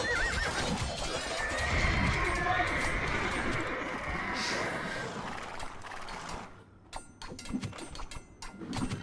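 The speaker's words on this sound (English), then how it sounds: "What grand beasts these horses are." Horses in the game Alexander Rising neigh loudly and repeatedly over a busy battle din, with clip-clop hooves and mechanical clatter, before the noise thins and a voice speaks near the end.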